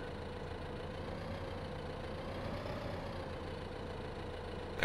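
A tractor engine in Farming Simulator 15 runs at a steady, quiet idle, a low continuous drone with no other sounds.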